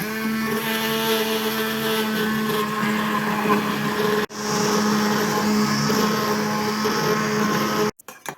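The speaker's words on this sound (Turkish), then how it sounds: "Şimdi blenderla geçireceğim." A hand blender purees softened leek soup for babies in a pot, whirring loudly and continuously with a steady motor whine, pausing briefly once before resuming and then cutting off near the end.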